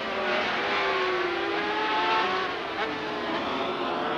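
500cc Grand Prix racing motorcycles at the Hockenheim Motodrom in wet conditions, a loud sustained engine roar with rising and falling pitch as the bikes pass through a tight corner.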